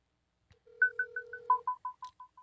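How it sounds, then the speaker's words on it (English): A telephone call going out, with a quick sequence of clear electronic dial tones and a steady tone under them, followed by a descending series of short beeps, close and isolated in silence. "Let's get Kenny on the horn."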